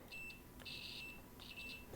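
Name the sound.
continuity meter beeping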